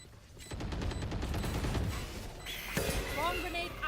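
Killjoy Swarm grenade and rapid gunfire in a Valorant esports match, dense bursts of shots with bright electronic ability tones and whistling effects, while a caster talks over the action.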